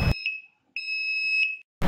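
Two short electronic beeps from a dry arc resistance test panel buzzer signalling test over, a brief one then a longer steady tone, clear and close with a pause between.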